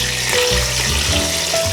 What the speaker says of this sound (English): I'm just gonna add some water to this.